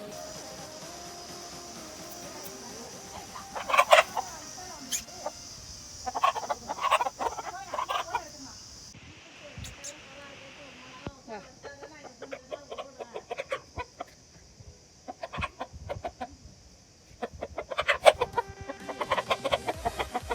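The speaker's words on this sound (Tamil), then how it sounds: "கோழி கூவுது ரைட்." Chickens cluck in scattered bursts at a village cooking setting, with a rooster call among them, moderately close, over quiet outdoor ambience and a steady high-pitched drone.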